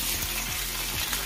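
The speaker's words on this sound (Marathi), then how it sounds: "अशा प्रकारे ब्राऊन होईपर्यंत आपल्याला खोबरं तळून घ्यायचं." Grated coconut frying in oil in a pan sizzles steadily at low volume, with a few soft scraping stirs as it is browned for a traditional Bhogi thali.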